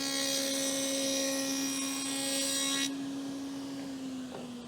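A table saw cuts a quarter inch wide rabbet along a wooden board, a loud steady whine with a sharp drop as the blade leaves the wood, then a fading idle spin.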